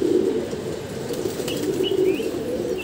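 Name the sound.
wild pigeon flapping its wings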